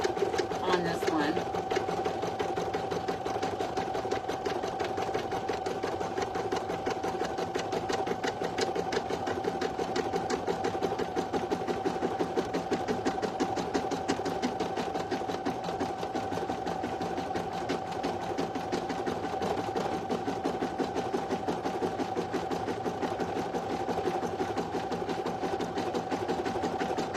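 A single-needle embroidery machine stitches out a design on a premade item, a steady rapid needle chatter running unbroken throughout, with a person talking over it.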